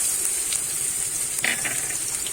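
Ginger-garlic paste hits fried onions in a hot pan and sizzles steadily, with a brief scraping stir partway through.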